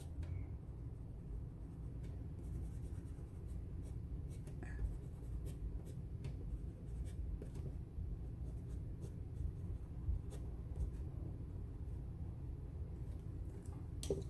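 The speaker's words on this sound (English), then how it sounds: "with the black pencil, watercolor pencil. I'm just going to establish a shadow." A black watercolor pencil shades on paper with soft, continuous scratching strokes and occasional light taps, quiet and close against a low background rumble.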